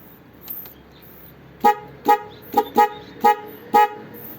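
Dual horn on an e-bike honked six times in short, evenly spaced blasts, loud and close, after a faint click or two.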